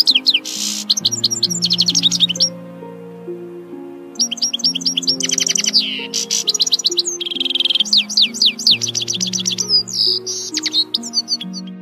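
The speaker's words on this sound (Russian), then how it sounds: "песня у седоголового щегла звучит явно нежнее по сравнению с черноголовым щеглом" A goldfinch, grey-headed or black-headed, sings alone and close. Bright, rapid twittering phrases and trills come in bursts with short pauses between them.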